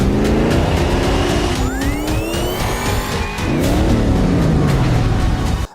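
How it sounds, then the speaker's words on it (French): Engines from the film Furiosa roar close and loud with motorcycles and trucks, as rising and falling revs and a high tire skid streak across a dense, constant rumble. "notamment les vromissements des motos, des camions quand on démarre"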